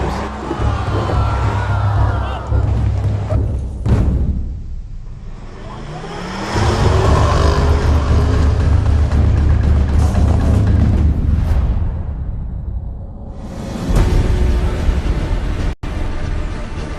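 A Range Rover Sport plug-in hybrid on optional off-road tyres climbs steep steps off-road, its engine rumbling and surging in loud heavy bursts with scraping, thudding impacts and brief lulls between efforts.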